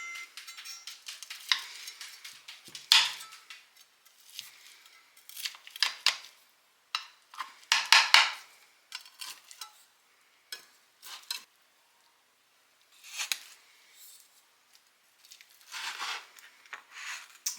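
A knife or spatula cuts into a hot pulled pork tater tot casserole, giving scattered crisp scraping and crunching bursts between quiet pauses, close and fairly faint.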